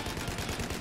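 Rapid gunfire in Battlefield 4, a dense rattle of shots blending into a rumbling burst, loud and continuous for under a second with no voices over it.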